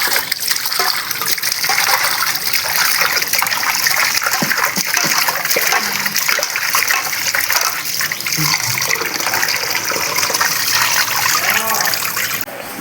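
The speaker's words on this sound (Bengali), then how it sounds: "আর একটু ধুতে হবে।" Pabda fish being rinsed by hand in water, with steady splashing and gushing that runs nearly unbroken and loud throughout, a few sloshes standing out; no one speaks.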